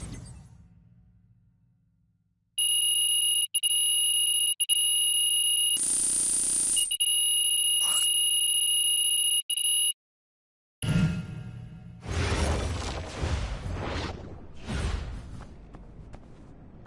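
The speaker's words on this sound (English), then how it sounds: "you hit the snooze on your alarm clock" An alarm clock in the 2K26 basketball video game rings loudly from about 2.5 to 10 seconds as a steady electronic tone, cut briefly by a whoosh, then gives way to crowd-like noise and other game sounds.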